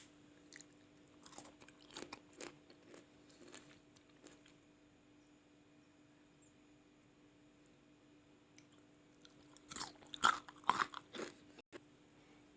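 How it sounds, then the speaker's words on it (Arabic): Crisp bites and crunching chews on homemade pickled turnip, a few sharp crunches early then a denser burst of loud crunching near the end, close and alone against quiet. "قرمش جدا جدا."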